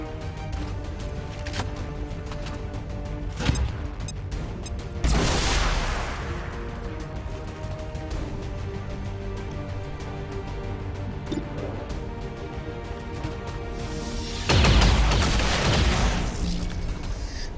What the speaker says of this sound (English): So we are definitely going to go for plasma grenades here.